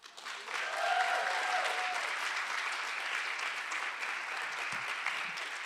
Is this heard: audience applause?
yes